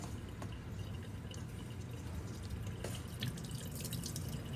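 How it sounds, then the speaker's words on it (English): Excess juice from fresh garden tomatoes drains and drips steadily, a soft continuous trickle with scattered small drips, close and quiet, with no talking. "you can drain all that extra juice out"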